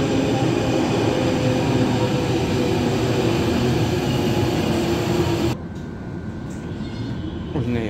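Interior rumble of a moving Brussels metro train, line 5, a steady loud broadband roar with rail noise that drops abruptly to a quieter hum near the end, as if slowing or entering a station.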